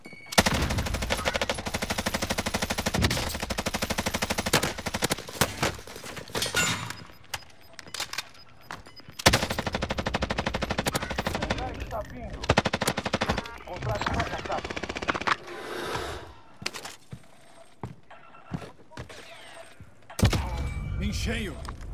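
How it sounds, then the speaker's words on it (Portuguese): Rapid bursts of automatic gunfire and sharp single shots crack through a Call of Duty: Modern Warfare firefight, dense at first, then breaking into scattered volleys with pauses and impacts, while players talk in between. "Estão atirando na gente!"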